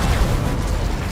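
Spell blasts from Confringo and Incendio in Hogwarts Legacy make a dense, continuous rumbling roar of bursting impacts. Loud and sustained throughout, with no gaps between blasts.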